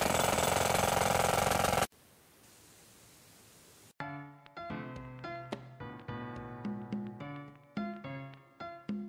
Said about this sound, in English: The vibrations caused by the jackhammer caused the house of cards to collapse.